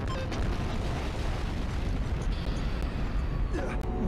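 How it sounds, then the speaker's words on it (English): A loud, sustained explosion in the video game Danganronpa: Trigger Happy Havoc, a dense roaring blast that fills the whole clip with rumbling debris-like noise and no clear break. "Blew the hell up."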